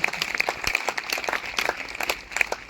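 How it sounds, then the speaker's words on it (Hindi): Audience at a Sunday church meeting clapping in dense, continuous applause, moderately loud and steady throughout. "अगर आए तो जोरदार तालियां बजाएंगे"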